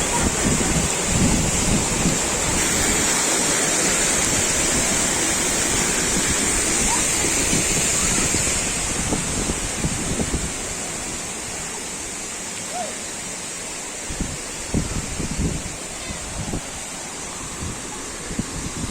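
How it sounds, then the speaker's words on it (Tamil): A mountain waterfall near Vellore pours down from a great height, a steady loud roaring rush of water that stays close and constant throughout, easing slightly in the second half with faint splashes. "இந்த அருவி வந்து ரொம்ப மலை உச்சியிலேருந்து வர்றதுனால"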